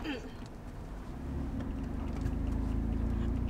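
A Jeep with a manual transmission drives on an icy road, its engine a steady low rumble that swells slightly as the clutch comes out and gas is applied, heard from inside the cabin.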